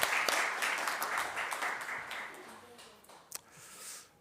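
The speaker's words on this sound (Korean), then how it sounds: "앞에 계십니다. 박수로 환영을" A church congregation claps to welcome someone during Sunday worship, a dense wash of applause that holds and then tapers off, with one sharp clap near the end.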